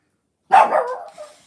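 A small dog gives a single close, sharp bark that trails off into a short growly tail, with silence before it.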